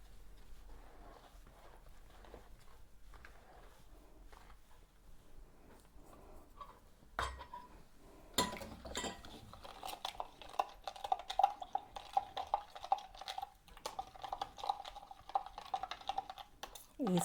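Salt and sugar are stirred together in a bowl for Sri Lankan round rusk dough. After a quiet start, a spoon scrapes and clicks in a quick, steady rhythm, with a few louder knocks against the bowl.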